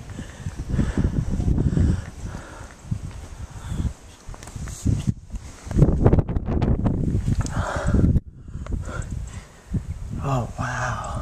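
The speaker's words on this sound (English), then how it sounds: "Very windy and cold." Strong, cold wind buffets the microphone on Hadrian's Wall in deep, gusty rumbles that rise and fall, with a person talking over it.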